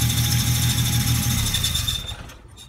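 A Mustang V6 with a failing throw-out bearing gives off a loud mechanical whir and a high, steady whine with a faint rhythmic chatter, then fades away quickly near the end.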